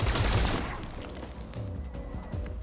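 Gunfire in the XCOM Chimera Squad video game, a loud burst of rapid shots at the start that quickly decays into a lingering echoing tail and faint background rumble.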